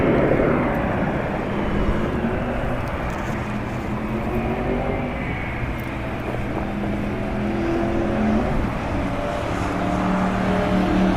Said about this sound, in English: That right there on the north side is Southwest Airlines Flight 1725.